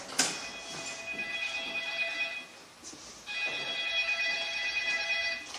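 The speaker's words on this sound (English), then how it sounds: "Oh, that's my phone." A telephone rings in two bursts of bright electronic trilling with a short pause between them, near and fairly loud with no talking over it.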